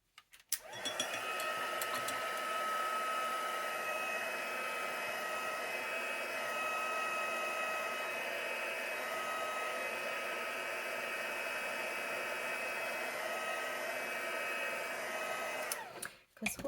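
A hair dryer blows steadily on acrylic paint for about fifteen seconds, a loud, constant whirring hum with a faint whine, switching on at the start and cutting off near the end.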